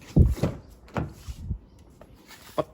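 Driver's door of a 2018 Toyota Revo Prerunner four-door pickup with automatic gearbox opening: a few close, short clunks and latch knocks spaced over a couple of seconds, with no talking.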